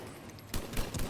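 Quick burst of gunfire in the video game Mass Effect 3, two or three punchy shots after a quiet half second, fairly faint in the mix with no talk.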